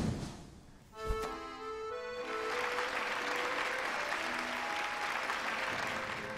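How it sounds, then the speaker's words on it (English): A cheering crowd applauds in Hollow Knight after a boss falls, a dense roar of clapping rising after a sharp hit and a fading chiming tone, then holding steady and full. "The applause of the crowd."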